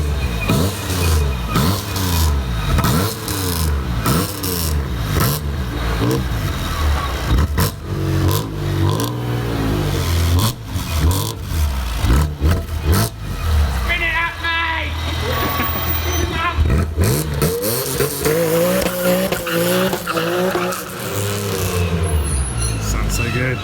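Loud engine of a non-JDM Japanese import car revving repeatedly, rising and falling pitch in rapid bursts, close by, with voices talking over parts of it.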